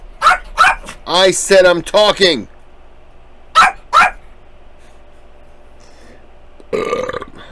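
Dogs give a few short barks and yips close by, mixed in with someone talking.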